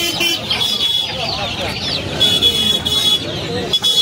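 Desi roosters and hens cluck and call at a crowded poultry market in Uluberia, steady and fairly loud amid the hubbub, with a high whistling tone recurring and people talking nearby.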